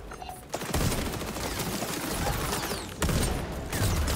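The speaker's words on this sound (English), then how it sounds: "Yo, what's this sniper like? I've not used this sniper yet." Rapid gunfire from a sniper rifle in the video game XDefiant, a dense burst of loud shots with sharp onsets near the start and again near the three-second mark, heard alone without talk.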